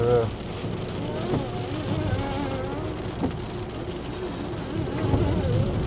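Heavy rain drums steadily on a surface close by, a dense continuous patter with occasional louder drops and faint background tones.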